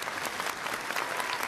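Audience applause for a singer and an actor on a Vietnamese stage show, a dense, steady wash of many hands clapping at full volume with no talk over it.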